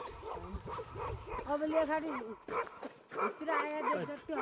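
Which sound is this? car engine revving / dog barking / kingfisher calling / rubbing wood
dog barking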